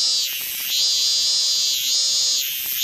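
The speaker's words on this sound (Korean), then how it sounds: "할아버지가 잡은 매미야." Close, loud cicada drone, caught by hand, a continuous high buzz that swells and dips in slow pulses, with faint rustling underneath.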